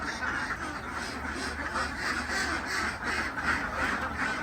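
A flock of egg-laying ducks quacks continuously and busily nearby, many overlapping calls forming a steady chorus.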